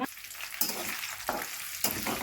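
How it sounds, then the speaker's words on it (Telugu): Oil sizzles hotly in a pan for mushroom curry, a dense close hiss broken by three regular stirring scrapes spaced about half a second apart. "ఇప్పుడు ఆయిల్ వేసుకుందాం బాండిలో"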